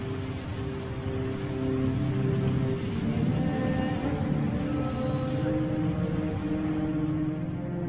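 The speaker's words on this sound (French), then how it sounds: "C'est le début de la saison des pluies. Elle tombe maintenant en un continuel déluge qui va inonder presque toute la région." Heavy, continuous rain pours down at the start of the rainy season, a steady, dense hiss of downpour with no voices.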